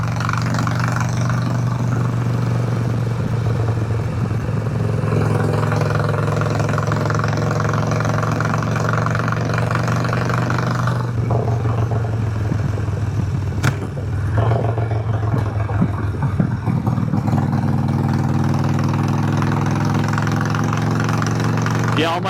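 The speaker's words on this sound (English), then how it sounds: "This thing's loud, but it sounds really good." A Harley-Davidson Sportster 1200 motorcycle idles loud and close, its steady deep thumping rumble running without a break under occasional faint background noise.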